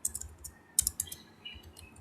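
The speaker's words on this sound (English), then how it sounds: "So we have type it in." Keys tapped on a computer keyboard in a quiet room, a faint, sparse run of light clicks with a brief denser burst near the middle and no talk.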